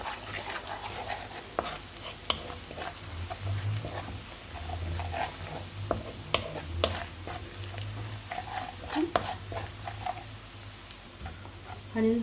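Onions caramelizing with sugar sizzle and crackle steadily in a pan for chicken piccata with mushroom cream sauce, with a constant hiss and scattered pops and stirring scrapes throughout.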